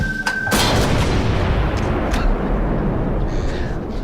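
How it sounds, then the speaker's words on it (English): A 6-inch Mark 7 coastal artillery gun fires one heavy, loud boom that rolls and rumbles for several seconds as it decays. "I have just fired one of the only two working 6-inch Mark 7 guns in the entire world."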